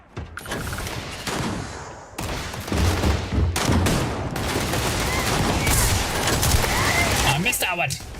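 Shotgun blasts from the space game Starfield ring out amid dense combat noise, several loud bursts over about eight seconds, with a player's voice talking over the gunfire.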